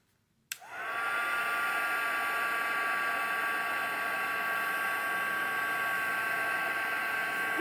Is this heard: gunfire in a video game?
no